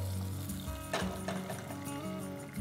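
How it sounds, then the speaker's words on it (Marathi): Tomatoes fry in hot oil for a chicken curry, with a soft, continuous sizzle running beneath background music and a few brief clinks of stirring. "आपण आता टोमॅटो पूर्णपणे तो शिजवून घ्यायचा आहे, तेलामध्ये मऊ होऊन द्यायचं आहे"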